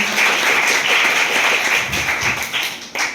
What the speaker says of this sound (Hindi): ताली से स्वागत करें।